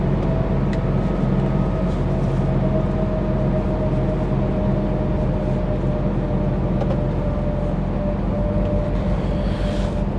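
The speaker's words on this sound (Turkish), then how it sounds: "Biraz retarder dinleyelim." A heavy Scania truck's steady, droning retarder engine-braking rumble on a winding mountain descent, with a constant low hum and a faint whine, continuous and loud throughout.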